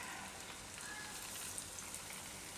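Sabudana bhajiya fry in hot oil with a continuous, fine crackling sizzle that stays steady and fairly soft, with no voices over it.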